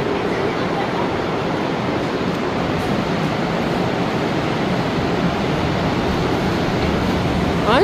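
Heavy rain pours onto a mall building in Sharjah, a dense, steady roar of broadband hiss with no break, loud and close throughout.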